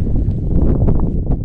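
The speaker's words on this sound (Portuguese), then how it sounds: "Tá ventando um pouco aqui." Strong wind buffets the microphone outdoors in green Brazilian sertão countryside, a loud, steady low roar with gusting rumble throughout and no talking.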